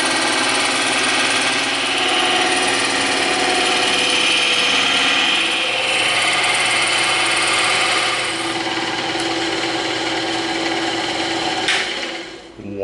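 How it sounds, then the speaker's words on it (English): A bandsaw runs loudly and continuously up close, a dense buzzing whine as it cuts a circle from EVA foam, fading out at the end. "now we're going to cut the circle out on the bandsaw"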